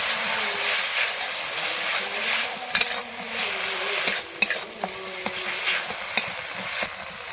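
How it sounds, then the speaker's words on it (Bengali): A paste of cumin, coriander, onion, ginger, garlic and chilli sizzles in a pan and is stirred steadily, with scrapes and light clinks of the utensil against the metal, close and without talk. "জিরে ধনে পেঁয়াজ আদা রসুন লঙ্কা বাটা ভালো করে একসাথে মিশিয়ে নেব"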